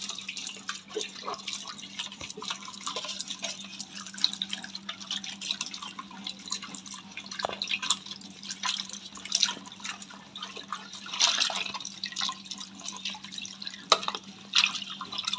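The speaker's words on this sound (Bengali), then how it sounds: "এই যে আমি এই বেসিনের মধ্যে বাটিগুলো ধুয়ে নিচ্ছি" Bird cage bowls being washed under tap water in a basin: a steady stream of running and splashing water with clinks and scrubbing, close and continuous, no voices.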